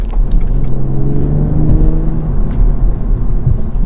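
A BMW M240i with a Dinan Stage 1 tune accelerates hard through traffic, its engine a loud, close, continuous drone that holds and climbs in pitch for several seconds over road rumble.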